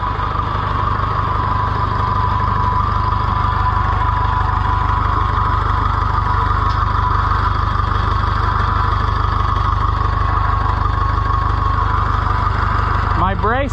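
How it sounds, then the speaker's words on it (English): Oliver 1450 tractor engine idling steadily with a new air cleaner cup and exhaust pipe, a continuous close, even drone lasting throughout with no talk. "the air cleaner cup and that exhaust pipe quieted Freddy down a ton"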